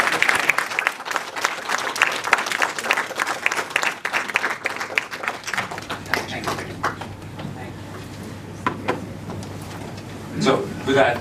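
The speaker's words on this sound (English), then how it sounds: "let's give a big round of applause" An audience at an evening book launch breaks into a big round of applause, brisk and dense at first, then thinning into scattered claps with murmured voices toward the end.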